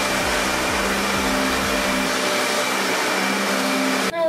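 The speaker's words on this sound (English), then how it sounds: "Let me just vacuum this floor real quick because it's kind of messy." A vacuum cleaner runs on a floor with a loud, steady roaring drone and a few low pulsing swells early on, cutting off abruptly near the end.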